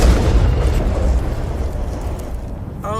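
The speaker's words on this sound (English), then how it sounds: "Just so many explosions." Rumbling explosions from a TV motoring show stunt scene, heavy low booms rolling continuously for a few seconds, loud and dense, fading slightly toward the end.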